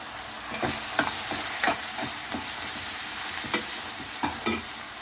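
Steady sizzling of chilli powder and spices frying in a hot pan, with occasional scraping clicks from a spoon stirring, close and continuous.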